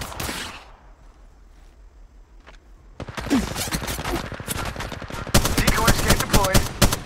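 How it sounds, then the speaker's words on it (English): Gunfire in the mobile battle royale game Apex Legends Mobile: a few shots, a quiet pause, then dense rapid automatic bursts that grow louder and continue to the end. "Getting shot at."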